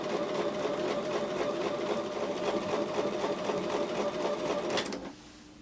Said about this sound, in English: So I'll take that back to the sewing machine and sew with a 1/4 inch seam.